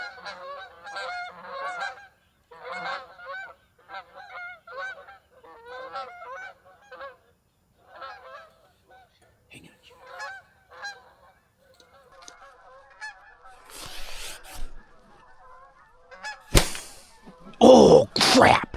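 A flock of geese honks at their roost, with repeated nasal calls overlapping in bursts near and far, broken by brief pauses, and ending in a few loud sharp thumps and rustles.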